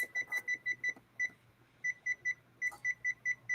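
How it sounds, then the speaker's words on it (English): A kitchen timer chirps through a run of short, evenly spaced high beeps in two bursts with a brief pause between, close and clear over a quiet kitchen hum while bread bakes in the oven. "Now I'm going to set my timer for 60 minutes."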